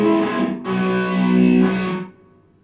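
Electric guitar playing the intro of a song through distortion and effects, a few loud sustained chords ringing close and alone, then fading out.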